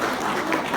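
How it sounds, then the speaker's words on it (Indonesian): Audience applause at the close of a church Sunday school management session, a steady dense wash of clapping that holds for the whole short stretch. "Kita berikan aplaus untuk"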